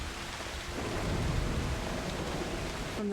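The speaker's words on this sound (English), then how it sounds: "I didn't mean to call a storm" A thunderstorm in the video game Broken Pieces: heavy rain hisses steadily while thunder rumbles low, building into a dense, continuous roar with no voices.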